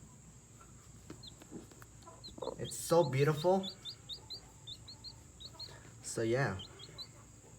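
A hen clucks softly in a coop beside other chickens, with repeated small chirps and cluck sounds throughout, while a person speaks briefly close by.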